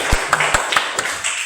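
Scattered clapping from a small classroom audience, a handful of distinct claps spaced irregularly over a second and a half, fairly close with a light background hiss.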